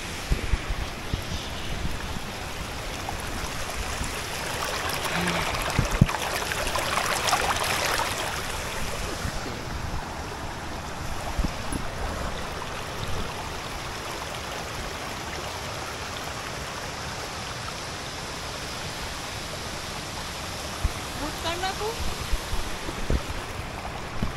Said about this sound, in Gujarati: તો હવે અહીંયાથી શરૂ થાય છે જે પાણી જઈ રહ્યું છે હું તમને બતાવું